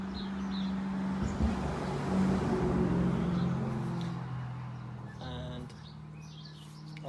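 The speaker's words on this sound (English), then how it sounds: "a really noisy car coming past" A really noisy car passes on a UK road near a motorcycle workshop, its engine rumble swelling and fading over several seconds, with birds chirping in the background.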